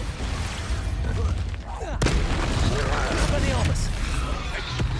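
An Expulso spell in Hogwarts Legacy detonates with a sudden sharp blast, followed by a rumbling, crackling tail amid dense game effects and shouted voices.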